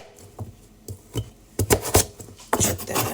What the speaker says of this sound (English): I'm gonna cut one more big piece of the turnip.